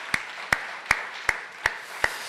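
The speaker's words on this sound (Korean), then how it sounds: "우리 박수로 한번 격려하겠습니다" A church congregation claps in unison, six sharp, evenly spaced claps in a steady rhythm over quiet room tone.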